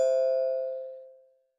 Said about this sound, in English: I'm not too sure if you heard the doorbell, but it did ring.